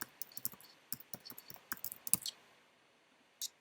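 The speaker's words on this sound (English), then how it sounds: "you can see that my typing is not my strongest point" Typing on a computer keyboard, a quiet irregular patter of sharp key clicks in uneven bursts, close by, trailing off into near silence before a last few taps.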